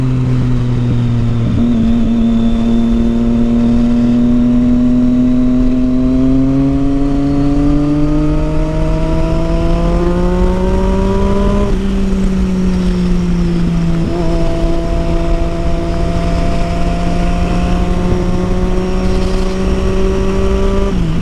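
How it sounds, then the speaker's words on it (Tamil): Triumph Street Triple motorcycle with a Yoshimura aftermarket exhaust, a loud continuous engine drone that rises and falls steadily as it rides, with no talk over it. "ஒரே கான்ஸ்டன்ட் ஸ்பீடில் போனால் சவுண்டு வருது, லைட்டாக முறுக்குனாலும் சவுண்டு வருது."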